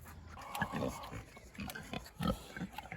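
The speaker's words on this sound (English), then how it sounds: "Happy pigs." Pigs grunt and snort in short, uneven bursts close by, with faint background noise between the grunts.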